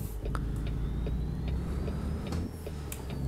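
A Peterbilt 389 truck driving in American Truck Simulator on roads in Washington and Oregon, a steady low engine drone with faint clicks and a thin rising whine above it, no talking.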